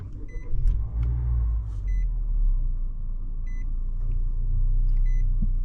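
A 2024 Nissan Kicks with a 2-liter inline-four starts up and settles into a steady low idle rumble, while short electronic chime beeps repeat several times over the engine.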